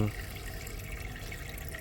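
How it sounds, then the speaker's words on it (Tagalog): An aquarium pump pushes a strong current of water through a crayfish tank, giving a soft, steady gurgling rush heard up close for a brief moment. "Maganda rin yung pagbibigay niya ng oxygen dito kasi malakas yung ano niya, malakas yung daloy ng tubig"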